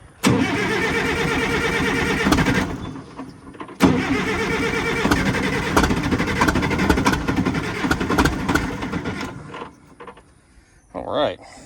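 A 1966 CAT 955 loader diesel engine cranks and churns loudly for several seconds, pauses briefly, then cranks again in a long rough run before dying down, with a voice speaking near the end.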